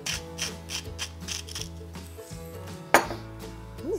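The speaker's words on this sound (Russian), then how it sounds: "И теперь для вкуса немножко добавлю черного перца" Black pepper ground from a mill over a crab stick salad, a close series of rapid ratcheting clicks and grinding turns with a brief louder knock near the end, no voices.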